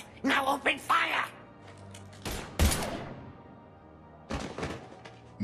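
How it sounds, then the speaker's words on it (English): Gunfire in the video game Mass Effect 3, short bursts of sharp shots and heavy thumps separated by quieter gaps, loud and close. "Now open fire!"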